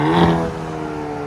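A 2023 Hyundai Kona N with a 2.0L turbo engine and a Stainless Bros resonator gives a short, close exhaust pop over a steady droning engine tone.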